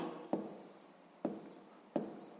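Numbers written out during a sixth-grade math lesson, heard as three separate short strokes of a pen or marker, each with a sharp start that fades away, spaced roughly a second apart in a quiet room.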